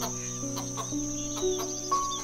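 Soft clucking from hens, a few short murmuring calls over a steady insect-like hum and tonal background.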